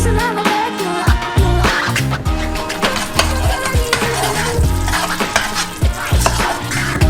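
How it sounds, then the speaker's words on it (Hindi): Caramel cooking in two saucepans on a stove, with busy sizzling and repeated stirring scrapes and clinks of a utensil against the pan, close and fairly loud, no talking. "हमने इसे स्टोव पर रखा। जरूरी तापमान पर रखें और पकाएं।"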